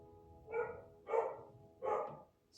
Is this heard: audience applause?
no